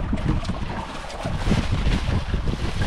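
Strong wind and heavy waves buffeting a small boat at sea, a loud continuous rush with gusty buffeting and sloshing water close to the microphone.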